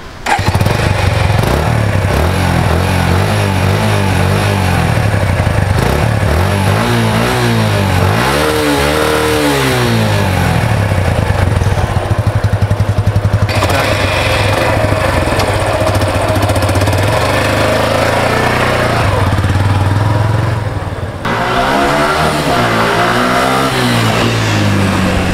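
A Suzuki Intruder Limited Edition motorcycle engine revs repeatedly, loud and close, rising and falling in pitch over a steady rumbling idle throughout, with no talking.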